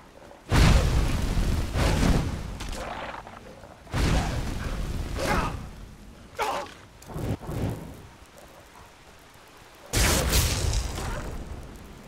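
Fire spell explosions in the Enderal Skyrim mod, loud booming bursts starting abruptly and fading, several in a row at irregular intervals, with a final big blast near the end, no talk.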